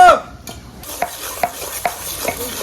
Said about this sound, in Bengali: এই তো প্রায় আমার পেঁয়াজ প্রায় ব্রাউন ব্রাউন কালার হয়ে গেছে তাহলে আমি নামাই নেবো